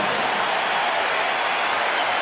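A basketball arena crowd roars in a steady, loud, unbroken wall of cheering at a Michael Jordan game, with no pauses or distinct voices standing out.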